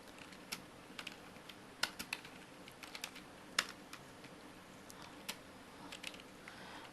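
A computer keyboard typing a line of code, scattered quiet key clicks in uneven bursts with a few sharper taps, close and faint against a low room hiss, with no talking.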